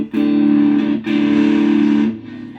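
A loud, gritty distorted electric guitar chord through a Marshall 15R amplifier rings out, is struck again, and sustains before easing off.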